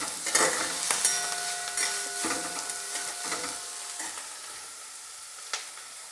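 Ginger-garlic paste sizzles and fries in a hot pan for idli manchurian, a steady crackling hiss with a few stirring scrapes and knocks, close and continuous with no talk.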